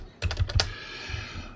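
A short burst of a few quick keystrokes on a computer keyboard, close and crisp, followed by a couple of softer taps.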